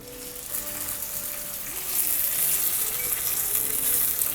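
The fatty edge of a supermarket beef steak, stood on its side, searing in a hot pan: a continuous close sizzle that swells louder midway and holds steady, with faint background tones.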